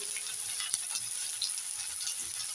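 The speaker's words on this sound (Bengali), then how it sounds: "দিয়ে এক মিনিট মেরে দেবো পেঁয়াজগুলো ভেজে নেব" Chopped onions with whole cumin, green chilli, cinnamon and bay leaf fry in oil in a pan, giving a steady, fairly quiet sizzle with a few small pops and no talking.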